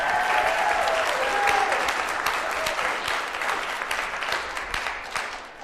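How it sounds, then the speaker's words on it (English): Audience applause for the contestants at a spring business pitch competition, a dense, steady round of clapping that fills the room and slowly tapers off over several seconds. "Can we get another round of applause for all of our contestants?"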